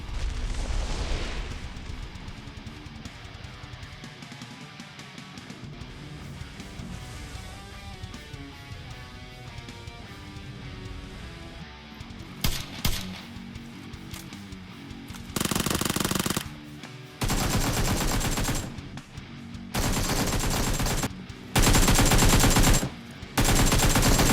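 Gunfire in the video game PUBG: rapid automatic bursts and single shots, distant at first, then loud close-range sustained volleys in several separate bursts, with no talk.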